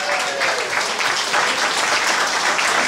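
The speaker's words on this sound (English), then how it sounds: "We want to give them a round of applause" Wedding guests at a GAA club mock wedding give a round of applause, a loud, full and steady burst of clapping from a packed room lasting the whole moment.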